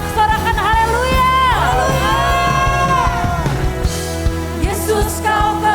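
A church congregation at a Sunday worship service shouts hallelujah together, a loud, sustained crowd cheer rising over live worship music and singing.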